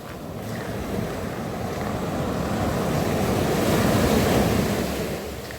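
Calm sea waves lapping softly along a rocky shore, a steady low wash with gentle swells and light wind noise across the microphone, no voices.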